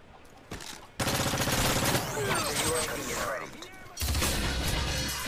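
Dense automatic and single gunfire bursts from a Modern Warfare 3 multiplayer match, loud and continuous through most of the stretch, with brief lulls and a renewed volley near the end.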